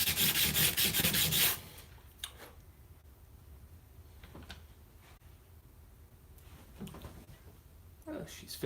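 Sandpaper rubs on a part of a BC Rich Mockingbird guitar during a repair and setup, a loud steady scrubbing at first that falls to faint scattered scratches and light taps.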